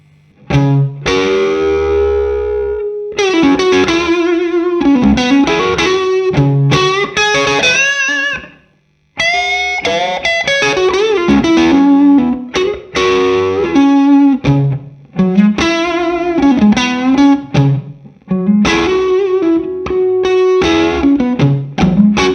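Electric guitar through an overdriven Morgan MVP23 tube amp, gritty crunchy chords and riffs played loudly with a brief pause partway through.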